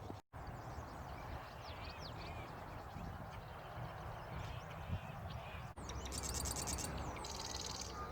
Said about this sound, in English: There's a few birds out here that I don't recognize